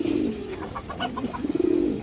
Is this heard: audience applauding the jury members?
no